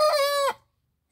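A farmyard rooster crows once, close and loud, in a single harmonic call lasting about half a second before cutting off into silence.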